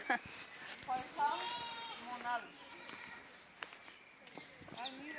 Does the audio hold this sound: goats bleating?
yes